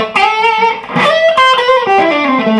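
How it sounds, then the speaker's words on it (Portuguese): An electric guitar played through distortion gives a bright, Fender-style tone, loud sustained chords and notes that shift in pitch over a few seconds, with no voice. "quando eu uso uma distorção nele, ele vai dar aquele som mais Fender mesmo."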